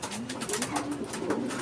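Racing pigeons, including a small young hen, coo softly and repeatedly in a loft during night monitoring before a derby in Santiago, Isabela, with steady low background noise throughout.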